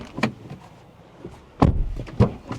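A 2025 GWM Cannon 2.4T 4WD ute door being opened, then shut with two solid thuds close by, with faint clicks and rustle between and no talking.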